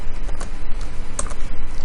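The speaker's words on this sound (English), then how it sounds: "we can't paste the MAC address here, so we have to type it in." Rapid, close keystrokes on a computer keyboard as a MAC address is typed in, a dense stream of clicky taps.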